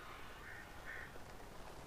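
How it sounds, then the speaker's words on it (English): Birds in the video game Alan Wake give two short, quacking calls, faint and distant over a low steady background hiss. "And yes, there are a lot of birds."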